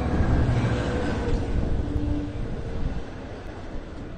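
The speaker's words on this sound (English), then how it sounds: "they're operating with one engine today, one locomotive, and four C3 bi-level passenger cars" A Long Island Rail Road train with one locomotive and four bi-level passenger cars rumbles close by at Mastic-Shirley station, a broad, steady roar of engine and wheels that eases off slightly toward the end.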